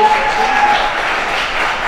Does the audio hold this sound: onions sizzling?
no